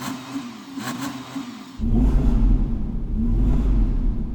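Audi R8 supercar engine revving on a winter test day, a steady close mid-pitched idle that jumps to a louder, rougher rumbling rev partway through and holds there.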